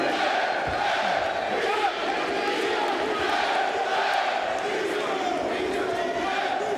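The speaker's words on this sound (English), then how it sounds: "This Italian crowd in Andrea Beaky's home city, Florence, fully behind their red corner fighter." Loud Italian crowd in Florence roaring and cheering for the home fighter at a bare-knuckle boxing event, a dense, continuous wall of shouting that holds steady with no single voice standing out.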